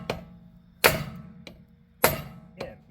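A big hammer strikes a socket fitted over a seized lug nut on a wheel rim, with five sharp metallic blows at an uneven pace, the second and fourth loudest, in a quiet shop.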